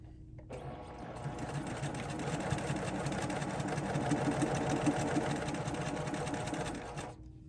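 A sewing machine runs steadily for about seven seconds while stitching a quilt seam, a close, continuous mechanical whir with a fast rhythmic pulse, starting and stopping cleanly.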